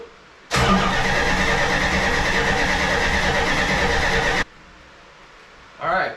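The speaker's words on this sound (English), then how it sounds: "I just want to let it turn over, and I don't even have power to the coil." 1969 Plymouth Fury III engine cranked over by the starter with no power to the coil, a loud sustained whirring crank of about four seconds that stops abruptly, followed by quiet and a short sound at the end.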